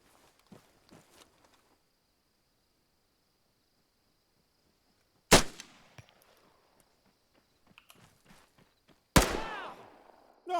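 Gunfire in a shooting video game: a couple of sharp loud shots with ringing tails separated by quiet stretches, plus faint clicks and a thin steady high tone.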